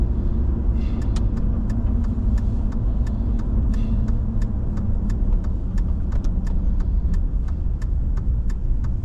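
Steady road traffic rumbles close by, a continuous wash of car engines and tire noise passing without pause, with repeated sharp ticking clicks layered over it.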